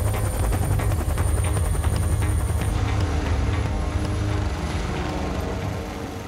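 A Caracal military helicopter of the special forces thunders continuously with dense, rapid rotor chop and turbine roar, close and loud throughout, no voices.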